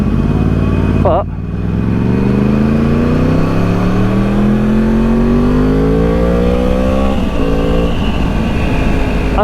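A 2013 Yamaha R1 sport motorcycle engine revs up from a steady idle, its pitch climbing smoothly for several seconds before easing back, loud and close throughout.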